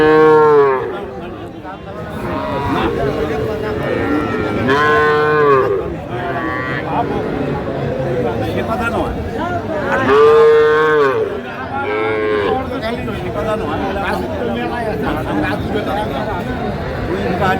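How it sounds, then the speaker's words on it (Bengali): Bull calves at a Khulna cattle farm moo loudly in drawn-out calls that rise and fall, several overlapping, amid steady crowd chatter and nearby voices. "ষাঁড় বাচ্চা আমরা দেখছিলাম।"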